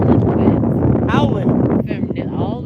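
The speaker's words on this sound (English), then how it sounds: "It's been nonstop windy for like 2 days now, like literally like crazy howling winds." Strong, gusty wind buffets the microphone outdoors during a windy spell in New Orleans, a loud continuous roar with rushing surges that carries on throughout.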